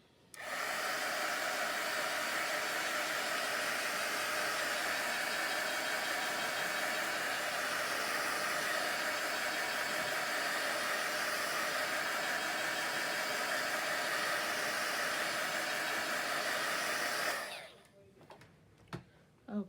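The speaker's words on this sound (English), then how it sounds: "I'm gonna hit that with the heat tool." A craft heat tool blows steadily onto paper for mark making, giving a loud, constant airy whoosh for about seventeen seconds before switching off, followed by a few faint clicks.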